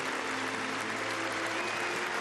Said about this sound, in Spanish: pasó a la tarima principal el presidente Santos, en medio de un fuerte aplauso